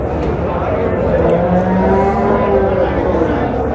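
A cow moos in long, low drawn-out calls, with murmuring voices and crowd bustle all around at the Dabwali livestock market.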